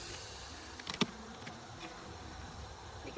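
Honeybees from a box of bees needing a new hive drone in a steady, dense buzz, with a few individual bees passing close by briefly.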